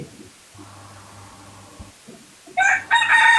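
A rooster crows loudly and close by near the end. Quieter clucking and low background noise come before it.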